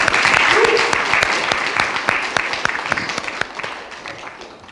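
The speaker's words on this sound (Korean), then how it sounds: "우리 다 같이 격려의 박수 하겠습니다" A church congregation at a university Sunday service claps in encouragement, a burst of many hands that starts full and gradually tapers off over a few seconds.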